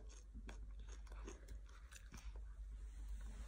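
A mouth bites and crunches through crisp fresh vegetables and neem shoots, heard up close as soft irregular crunches and chewing. The sound is faint and continuous, with no talking.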